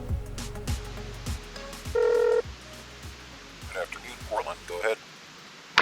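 Telephone keypad tones sound as a pilot at a small airfield dials approach control for an instrument clearance: a short, loud burst of dialing beeps, then sparser tones and clicks.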